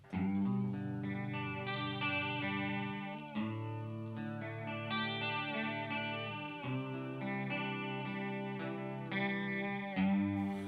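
Electric guitar notes through a chorus pedal set to high intensity, drenched in heavy chorus, wobbling and warbling with a thick, stretchy, rubber-band-like modulation, played alone without speech.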